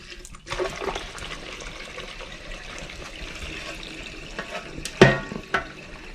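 Fuel glugging and trickling through a funnel into the tank of a Jeep Comanche during a V8 swap, a steady close liquid pour with a louder splashing surge near the end and no talking.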